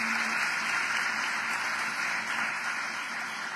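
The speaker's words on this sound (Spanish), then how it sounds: "quiero que le demos un aplauso al Señor por la vida de Adauri" A church congregation applauds the Lord, giving thanks for a pastor's life: a steady, dense wash of many hands clapping together, sustained and even throughout, with no speech over it.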